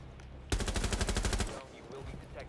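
Rapid burst of automatic gunfire in Rainbow Six Siege, fired into a wall, about a second of closely spaced loud shots that stop abruptly, then quieter game sounds.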